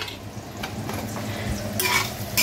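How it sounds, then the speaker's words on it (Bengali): Paneer sizzling in a pan with occasional utensil scrapes and clinks, the frying growing louder toward the end. "এই পনিরগুলো ভাজা হয়েই গেছে, পনিরগুলোকে তুলে নিই"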